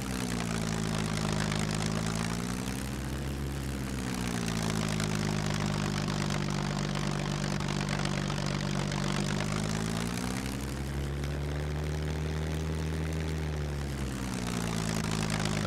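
A float plane's engine and propeller drone loudly in the video game SCUM, a steady buzzing hum whose pitch dips and swells twice as the throttle shifts, with no speech over it.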